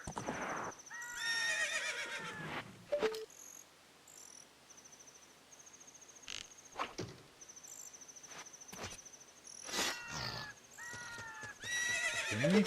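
A horse whinnies and neighs repeatedly in a video game over a steady bed of crickets and insects, with soft hoof clip-clops between the loud calls.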